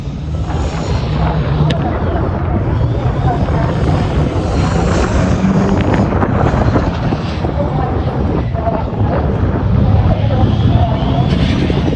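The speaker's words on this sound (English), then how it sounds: "Put a bigger turbo in the engine to make that pushing noise." Turbocharged Group B-era rally car engine at a Race Retro event, a loud continuous broadband roar with heavy low rumble sustained through the clip, with spectators talking faintly underneath.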